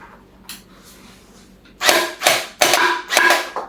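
A Kriss Vector toy blaster fires four quick, loud, sharp bursts in close succession after a short, mostly quiet stretch.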